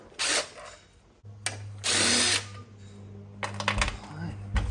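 A power drill or driver spins out the timing cover bolts on an LS truck engine, close and loud in a few short whirring bursts with pauses between, a low hum underneath and a voice briefly speaking.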